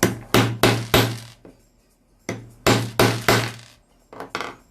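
An oval hole punch snaps through material in sharp, loud clacks, first a rapid run of four, then a fainter knock, a pause, another quick burst of four, and two lighter clicks at the end.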